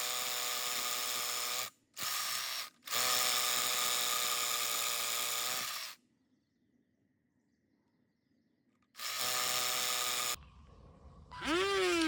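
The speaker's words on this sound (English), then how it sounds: "I have to use my little tire inflator to blow out the dust" A small tire inflator blows dust out of drilled holes in a stone step block, a loud steady whine with many harmonics running in bursts with brief breaks, then a quiet gap before it starts again, followed by a rising chirping sound.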